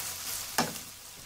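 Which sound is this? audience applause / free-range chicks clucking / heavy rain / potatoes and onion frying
potatoes and onion frying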